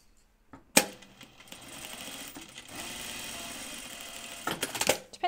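Sewing machine stitching down a seam on an unlined jacket: a sharp start, then a steady close whir of needle strokes that stops, then runs again and ends in quick bursts.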